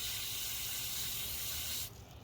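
A steady, loud hiss of water spraying from a fertilizer sprayer nozzle runs for about two seconds, then cuts off abruptly.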